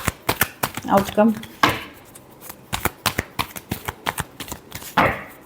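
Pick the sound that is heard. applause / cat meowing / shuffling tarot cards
shuffling tarot cards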